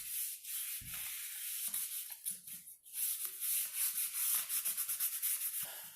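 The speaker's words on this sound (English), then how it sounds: "give it a light sanding with this" Light sanding of a wheel with 100-grit, a steady scratchy rubbing in short back-and-forth strokes on the hard surface, close and fairly loud, with no voices.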